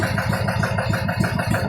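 A boat's engine running steadily while fishermen haul a net against a strong current, a loud, close, throbbing drone with an even pulsing beat and no voices.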